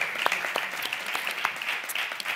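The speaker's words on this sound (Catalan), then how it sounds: "un fort aplaudiment per Jordi Grau" Crowd applause for Jordi Grau at a live Catalan comedy show, a dense, steady patter of many hands clapping close by, with a few sharper individual claps standing out.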